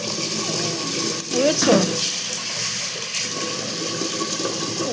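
Tap water runs steadily while rice is rinsed in a home kitchen, a broad continuous wash with brief splashy swells, someone speaking briefly over it.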